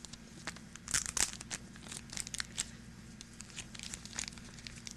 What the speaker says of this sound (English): Go ahead and remove it from that little protective plastic thing